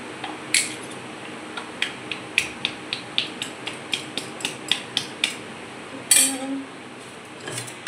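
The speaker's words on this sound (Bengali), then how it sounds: "এবার আমি এই হাঁড়িতে ঘি দিয়ে দেবো।" A cooking pot is handled while ghee is added, giving a run of regular light metallic clicks and taps, followed by a louder clattering scrape near the end, in a quiet room.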